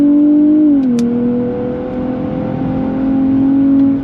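A 2023 Nissan Z Performance with an automatic transmission accelerates hard on a race track, its engine holding a steady, loud, droning note that dips briefly and then climbs again, with no talking.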